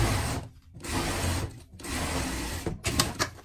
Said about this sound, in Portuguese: Vamos passar na costura aqui.